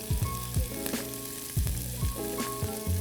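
Onions and chives fry in a pan during a cooking demonstration, a continuous close sizzle with faint stirring over a low tonal background hum.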